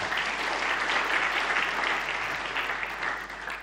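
Congregation clapping together in a church during a Good Friday sermon, a dense, steady wash of applause that holds evenly throughout without pauses or voices.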